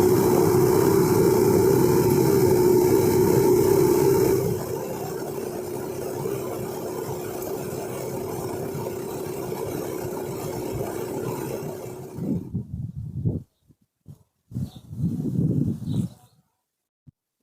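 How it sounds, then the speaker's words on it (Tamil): A car travels a long straight desert road near Jaisalmer, with a steady rumbling engine and road drone, louder at first, then breaking into intermittent bumps and gusts toward the end. "மொத்தம் பாலைவனத்தில் தான் வண்டி போயிட்டுருக்கு"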